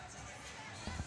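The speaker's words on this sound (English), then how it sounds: "They're playing basketball behind us." A basketball bounces on an indoor court at a summer basketball camp: two close dull thuds heard under a steady wash of gym crowd noise and chatter.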